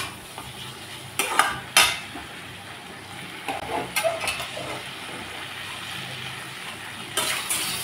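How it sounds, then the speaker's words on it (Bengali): Vegetables stir-frying in a pan for a Bengali prawn and greens dish, with a steady sizzle broken by several sharp scrapes and clinks of a spatula against the metal. "5 মিনিট পর সবজির মতো আমি ভালো করে ভাজা করে নিচ্ছি।"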